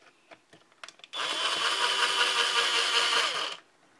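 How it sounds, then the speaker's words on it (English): A power drill drives a snug-fitting screw, whirring in one continuous burst of about two and a half seconds, preceded by a few small clicks and knocks, close and clear. "I'm going to use a drill because it's a really snug fit."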